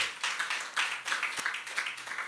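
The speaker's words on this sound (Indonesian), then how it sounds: "Berikan tepuk tangan bagi Tuhan kita" A church congregation claps together in a steady, brisk rhythm, the dense applause filling the room evenly from start to finish.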